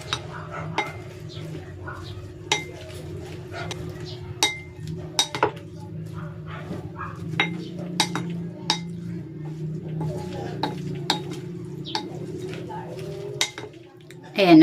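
Mustard leaf salad tossed with calamansi, fish sauce and pepper for crispy fried tilapia, with repeated light clinks and scrapes of utensils against a dish over a steady low hum, close and moderately loud.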